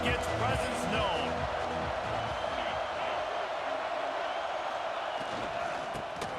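Stadium crowd noise in EA Sports College Football 26 forms a dense, steady roar under a play-by-play commentator's voice, with brief louder bursts near the start.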